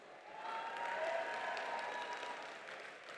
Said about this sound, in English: please let's give our band and our choir a round of applause